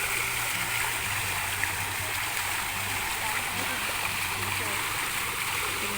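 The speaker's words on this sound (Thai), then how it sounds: "น้ำตก" A waterfall roars in a continuous broadband rush of splashing water, steady and fairly near, with a low hum running underneath.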